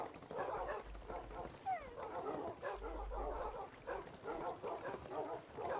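Minecraft dogs yip and whimper softly in a quick, repeated series of faint little barks and whines over low background sound, with no talking.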